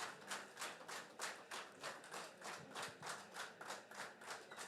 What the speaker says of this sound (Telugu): గట్టిగా క్లాప్స్ కొట్టండి సార్,